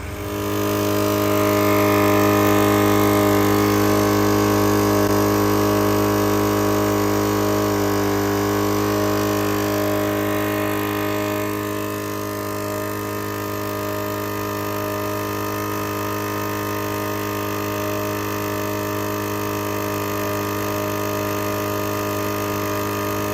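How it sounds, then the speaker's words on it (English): A portable air compressor from an EZ Flate C.A.S.E. and recoil hose setup runs continuously to reinflate vehicle tires, giving a loud, steady mechanical drone that eases slightly in level partway through and never stops. "and then we'll start up the air compressor."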